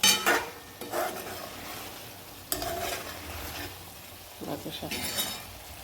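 Chicken frying in a pan as it is stirred, with several close scraping strokes and bursts of clatter over a soft continuous sizzle, no talking.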